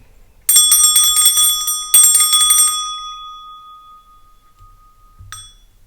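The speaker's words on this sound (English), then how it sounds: "I'm going to start by clearing the energy with my bell" A small bell is struck twice, each bright ringing tone lingering and fading. A softer third ding follows after a pause.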